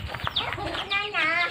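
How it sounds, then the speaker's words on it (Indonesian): Chickens cluck and squawk close by, a run of short, uneven calls that rise in pitch toward the end. "Ayam yang besar."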